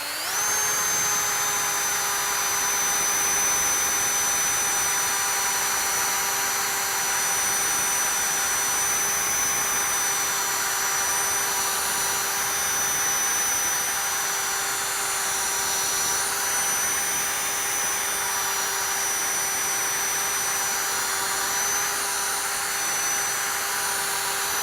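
A car polisher runs with an orange foam pad and Adam's Polishes paint-correcting polish for severe scratch removal, producing a steady, close, high-pitched whine that holds unbroken for the whole stretch with no talk.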